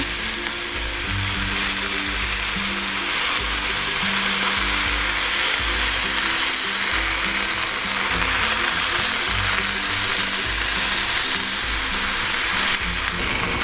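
Burgers frying in a pan, a loud, dense sizzle that crackles continuously throughout, close up with no talk.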